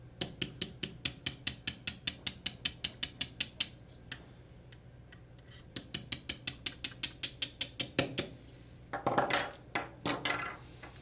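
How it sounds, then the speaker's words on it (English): Dowel pins are tapped out of the motor-to-gearbox joint of an EVOLVE finish-and-trim tool, giving a close, regular train of sharp metallic ticks with brief pauses, ending in a few rougher scraping knocks. "We're going to tap these dowel pins out, and that will allow us to disconnect the motor from the gearbox."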